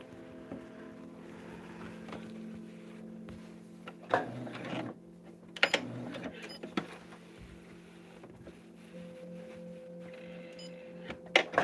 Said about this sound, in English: we're just sewing down that line